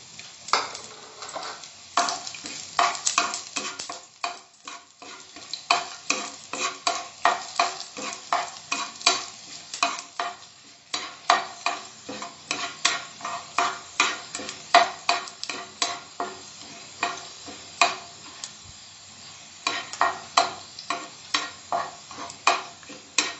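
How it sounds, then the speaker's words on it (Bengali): Chopped garlic frying in a pan for Punjabi dal tadka, stirred with steady scraping strokes over a continuous sizzle, close and fairly loud with rhythmic bursts throughout. "একটু নাড়ছি। এবার রসুন কুচিটা দিয়ে দেবো।"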